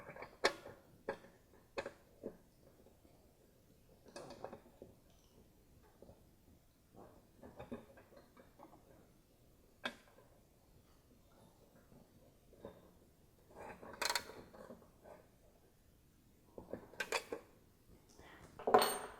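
An 8mm wrench and a 4mm Allen key tighten bolts on a supercharged B8.5 Audi S4 air intake: sparse metallic clicks and ratcheting ticks in irregular clusters, close and fairly quiet.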